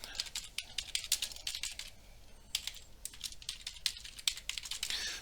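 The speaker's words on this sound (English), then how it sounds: "I was supposed to be typing up there" Someone types on a computer keyboard while working in MultiSim software, making close, quick, irregular bursts of clicking keystrokes with short pauses. No one speaks.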